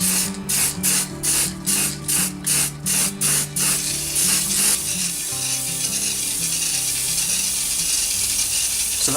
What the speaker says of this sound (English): for the black I've got a tin of universal spray paint